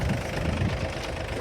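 Freshly serviced tractor diesel engine, fitted with a new oil filter and diesel filter, idling steadily nearby with a low, knocking rumble and no breaks for the whole moment.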